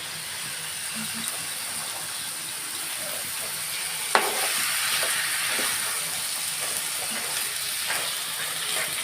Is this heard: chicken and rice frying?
yes